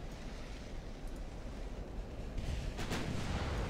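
Naval guns on a battleship armed with 11-inch guns fire at a destroyer in the warship game Ultimate Admiral: Dreadnoughts, a low rumbling roar building into a heavier booming blast near the end, with no talking.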